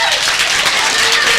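A comedy club audience bursts into loud applause, dense clapping from many hands filling the room without pause, close and energetic.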